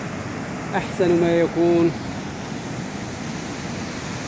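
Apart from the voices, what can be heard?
sea waves at the beach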